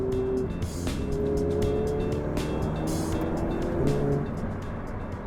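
A Ferrari 488 Pista sports car drives on roads around Maranello, Italy, its engine humming steadily from inside or close by with gentle shifts in pitch, and no talk over it.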